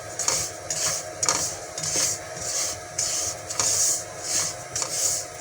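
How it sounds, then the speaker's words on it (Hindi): Semolina roasting in desi ghee for halwa, stirred in a pan: a spoon scrapes in a regular back-and-forth rhythm about once a second, close and moderately loud over a faint sizzle. "अब हम सूजी को भून रहे हैं।"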